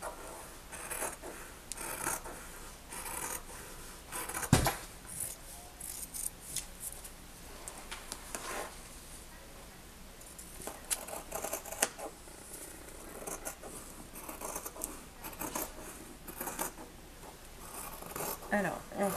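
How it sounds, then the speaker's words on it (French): Fabric scissors cutting along the edge of a pinned sewing pattern, heard as intermittent close crisp snips and rasping strokes under a steady low room hum, with one sharp louder knock partway through. "avec le ciseau du tissu, pardon, et on coupe au bord du patron"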